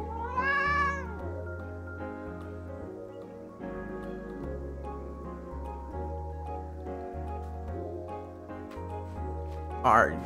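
A cartoon cat meows in the video game Calico, a short rising cry near the start and another at the end, over steady background music.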